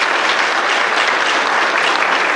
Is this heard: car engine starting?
no